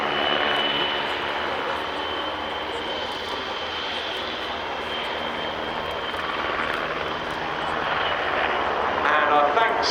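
Czech Air Force W-3 Sokół helicopter flying a display at an air show, a steady loud rotor and engine roar held for the whole stretch with a faint thrumming pulse, amid crowd and commentary voices.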